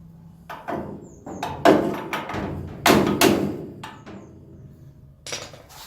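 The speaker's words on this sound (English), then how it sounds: "Knock it tight into this back panel here." Hammer knocks on a welded steel replacement plate, driving it tight into the back panel of a Ford F250 truck cab during cab corner repair; several sharp, close metallic thumps arrive in irregular bursts with ringing decay.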